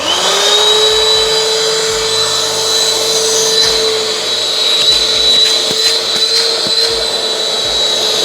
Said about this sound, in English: I think we just have to turn it on, vac and pump.